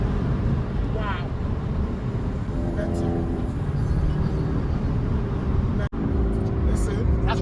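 A BMW M3 estate car driving, its engine droning loudly and steadily from inside the cabin throughout, with voices talking over it.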